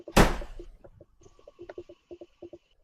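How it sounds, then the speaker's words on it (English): A door slams once, a loud, close thunk at the start, followed by light scattered knocks and faint rattling. "That was the sound of me fucking slamming this fucking door."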